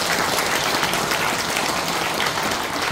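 Dense, continuous applause from an audience at a political talk show event, a steady wash of clapping with no speech over it.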